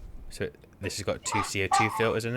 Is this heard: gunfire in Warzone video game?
no